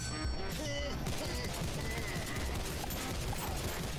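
Rapid, dense assault rifle fire sounds in the top-down action game Maniac, with chaotic crashes and game effects layered over it and a few brief tonal blips at the start.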